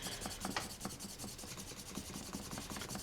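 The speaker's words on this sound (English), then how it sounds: "I'll take my slicking tool and I'll start on one of the grooves" A slicking tool rubbed with firm pressure along the groove of a leather belt, giving a soft, close, steady scraping friction with repeated strokes and no talk.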